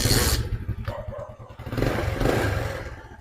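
A Rusi 110 motorcycle engine, idle set too low so it tends to stall, chugs with an uneven pulsing beat, sagging and nearly dying before picking back up, heard up close with some metallic clatter.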